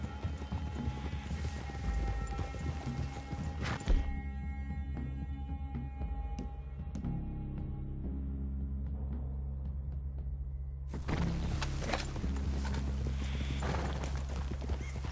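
Steady clip-clop of hooves plods along throughout, with a brief clatter midway and a background hum.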